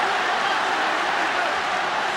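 Arena crowd at a Pride FC fight roaring in a dense, steady wash of cheering that holds at an even loudness throughout.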